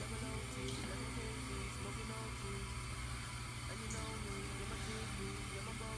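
Water runs steadily from a tap for several seconds while a brush is wetted for styling hair edges, a continuous hiss with no clear breaks.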